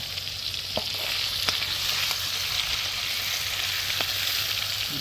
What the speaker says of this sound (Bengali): তো বন্ধুরা ফার্স্ট লটে আমাদের যা মাছ ভাজা হলো